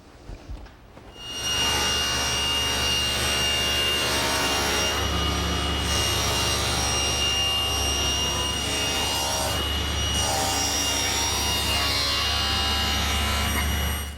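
A table saw cross-cutting a 3/4-inch birch panel on a homemade panel cutter riding in the miter slot: the blade spins up to a loud, steady whine that drones evenly through the cut for about twelve seconds.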